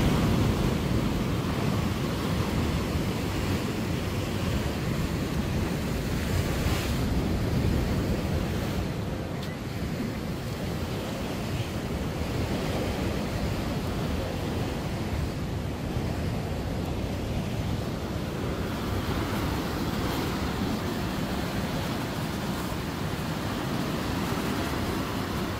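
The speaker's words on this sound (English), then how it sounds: "The wave just hit the pier and the water came up." Ocean waves surge and crash against a pier on the KZN South Coast at Margate, a continuous broad roar of surf mixed with strong wind buffeting the microphone.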